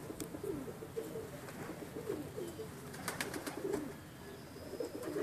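Pigeons in a loft cooing softly, several birds overlapping in low rolling coos with a few faint clicks and flutters, steady background chorus without talk.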